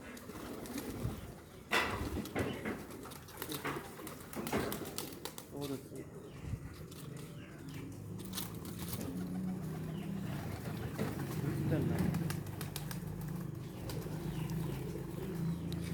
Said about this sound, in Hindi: ये एक आवारा कबूतर आकर बैठा है